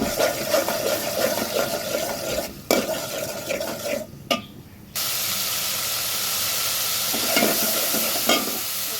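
Vegetables fry in hot oil with chili and turmeric as a spoon stirs and scrapes the pan, a steady sizzle broken by sharp clinks and a sudden louder hiss partway through.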